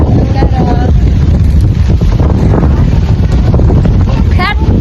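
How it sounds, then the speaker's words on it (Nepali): Strong wind buffets the microphone outdoors, a loud, rumbling low roar that gusts steadily throughout while voices speak over it. "आयो आज हावाले"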